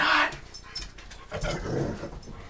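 A dog in a home kitchen gives a short, low growl and some grumbling vocal noises, close by, with no speech.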